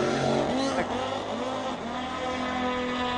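An 88 Corvette with a small-block engine at a drag racing raceway, its loud engine roaring and revving with shifting pitch, running slightly rough, with tire squeal, while an announcer talks over it.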